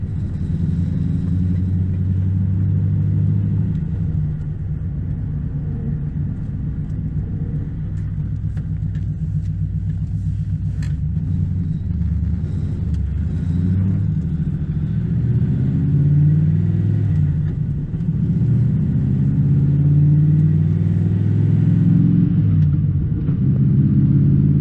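A 1996 Chevrolet LT1 V8 fitted with TorqHead parts idles and revs in a car, a loud continuous low rumble with gentle swells of throttle, heard up close.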